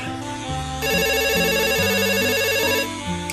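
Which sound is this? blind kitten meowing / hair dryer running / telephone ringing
telephone ringing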